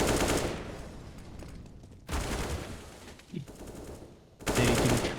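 Rapid automatic gunfire in a competitive video game match comes in three loud bursts separated by brief quieter gaps, the shots close and sharp, with no clear talk over them.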